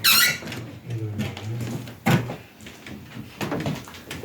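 Wooden wardrobe door of chestnut, ash, cherry and beech being opened and closed, with a squeaky creak and a sharp knock of the door shutting, followed by softer handling noises.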